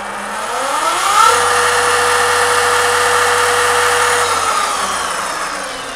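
A Talaria Sting electric bike accelerates hard in sport mode, its motor whine rising steeply in pitch, holding a loud steady high tone, then easing off as it passes close by.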